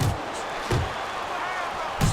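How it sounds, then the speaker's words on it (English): Three sharp thuds of a boxing jab landing in a video game fight featuring Evander Holyfield, spaced apart over steady crowd-like background noise. "A well-targeted jab that time."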